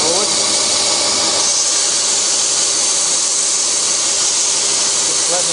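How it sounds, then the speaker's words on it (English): A wooden pen box is flattened by hand with 80 grit sandpaper, a steady, close, continuous gritty rasp that holds an even level throughout. "This is 80 grit sandpaper, and we've almost flattened it out there."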